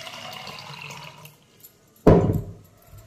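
Water from a tap or jug pours into a shaker for a herbal breakfast shake, a sudden close splashing gush that tails off after a quieter stretch of background sound.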